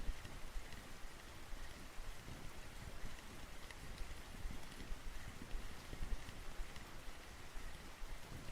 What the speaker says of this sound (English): Yeah, I know it's the rain.